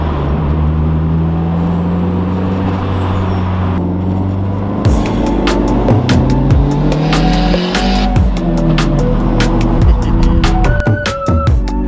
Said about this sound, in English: I don't know how this turbo is gonna sound with this setup when it flutters.